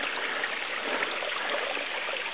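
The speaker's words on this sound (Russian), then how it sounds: "Здравствуй, величавый наш красавец водопадик" A mountain river waterfall on the Dederkoy gives off a continuous, fairly loud rushing wash of water that stays steady and unbroken, with no voices.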